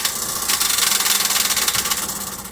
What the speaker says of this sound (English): So now the pumps are priming